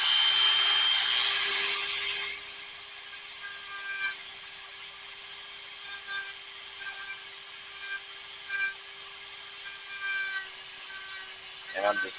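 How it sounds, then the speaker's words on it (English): A small rotary tool fitted with a drum sander spins with a high, steady whine, loudest at first as it sands a metal concho, then lighter intermittent grinding touches over the motor's hum. "And I'm just barely hitting that with a drum sander."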